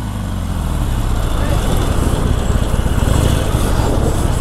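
A Harley-Davidson 1200 Custom motorcycle runs close by with a loud, steady engine rumble that builds slightly under the throttle and stays continuous throughout.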